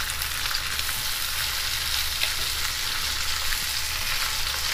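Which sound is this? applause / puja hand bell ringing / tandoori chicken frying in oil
tandoori chicken frying in oil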